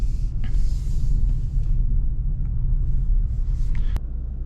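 A 2021 Audi A3 sedan, S-line with the 1.5 TFSI 150 HP engine, rolls slowly toward a parking spot, giving a steady, close, low engine rumble with a brief click near the end.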